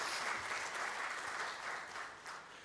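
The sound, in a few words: audience applause at a conference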